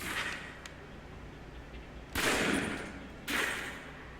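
Pistol shots fired at a target in the video game Alpha Protocol, two sharp reports with short decaying tails over a low background hum, spaced about a second apart.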